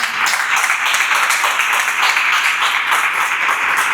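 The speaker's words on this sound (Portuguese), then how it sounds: "Vamos ficar de pé aplaudindo o Senhor Jesus." A church congregation standing and applauding during a Wednesday family service, a steady wash of many hands clapping, loud and sustained without pause.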